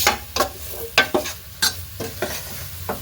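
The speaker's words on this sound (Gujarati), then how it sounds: "તો જોઈ શકો છો ફ્રેન્ડ, આપણે એકદમ શેકી લેવાનું છે. ઘી એડ કરતું જવાનું." Adadiya mixture roasting in ghee in a pan, stirred with repeated scraping strokes in an uneven rhythm over a soft, steady sizzle, close and clear.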